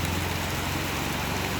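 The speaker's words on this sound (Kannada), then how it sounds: "ನಿರಂತರವಾಗಿ ಚಿಕ್ಕಮಗಳೂರು ಭಾಗದಲ್ಲಿ ಮಳೆ ಸುರಿತಾ ಇದೆ." Heavy monsoon rain pours down steadily in the Chikkamagaluru area, a dense continuous hiss with no talk over it.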